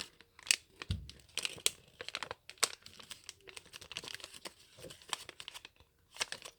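Paper folded by hand into a snake mask, with soft crinkles, creases and sharp little taps up close, scattered and quiet, with no talking.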